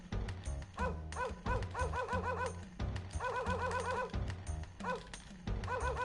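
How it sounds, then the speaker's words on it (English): A dog in the Wild Arms video game gives a run of quick, repeated yapping barks in a steady pattern that carries on throughout the clip. "Doggy."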